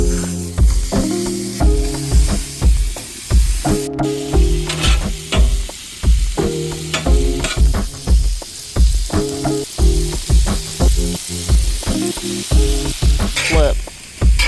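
A burger patty frying in a pan, sizzling steadily throughout with repeated rhythmic clatter and scraping of a utensil on the pan, loud and close.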